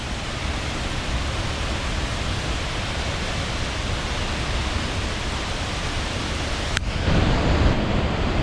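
Ozone Falls in Tennessee flowing heavily, a loud, constant broadband roar of falling water that holds steady throughout, with a brief click near the end and no voices.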